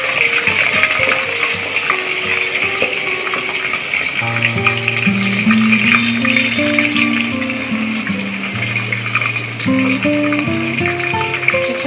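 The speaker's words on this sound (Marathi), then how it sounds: "हा कांदा आता ट्रान्सपरंट होईपर्यंत आपल्याला परतून घ्यायचा आहे तेलात।" Sliced onion frying in oil in a pan, a steady sizzling hiss running throughout beneath louder background music.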